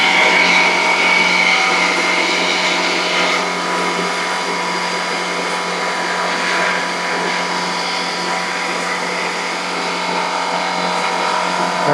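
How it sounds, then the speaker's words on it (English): Dremel rotary tool grinding an indent flat on an INEOS Grenadier, a loud, steady high-pitched whine held throughout with slight shifts in pitch as it works the metal. "we're gonna use a Dremel to flatten that out"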